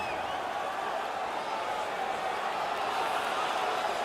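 Steady arena crowd roar from the NHL 19 hockey video game, a continuous dense wash of fans cheering at even loudness throughout with no break.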